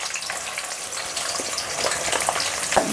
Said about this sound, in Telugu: బ్రౌన్ కలర్ వచ్చే వరకు వేంపుకోవాలి.